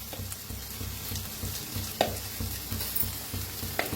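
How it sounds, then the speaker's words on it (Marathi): Spices with turmeric sizzle and crackle as they roast in a hot pan, stirred with scraping strokes in a steady rhythm, close and moderately quiet. "असं छान भाजून घेऊया."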